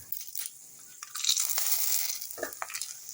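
Bay leaf drops into black cumin and dried chili frying in a wok, bringing a brief surge of hissing sizzle with a few crisp crackles and a stirring scrape nearby.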